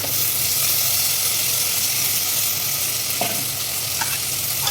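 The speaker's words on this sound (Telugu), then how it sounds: "మటన్ 2 సార్లు కట్టుకున్నానండి. వేసేసుకుంటున్నాం." Mutton pieces stirred into browned onions fry in a pan with a loud, continuous sizzle and hiss, and a couple of faint scrapes from the stirring spoon near the end.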